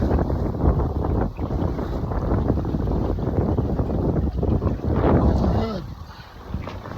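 A sailboat heels under sail in strong wind, with heavy gusty wind buffeting and rushing water around the hull, while people talk faintly beneath the roar.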